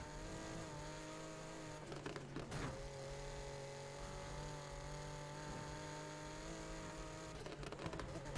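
A car with air suspension in Need for Speed Heat starts up and idles, a steady droning engine hum with low rumble and a couple of brief rev bursts, continuous throughout and fairly quiet, with no talk.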